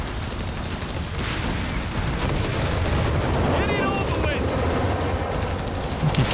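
Gunfire and anti-tank shots in the WWII strategy game Company of Heroes 3 as AT guns fire on a Panther tank, with dense bursts of shots and booms over a steady rumbling battle bed.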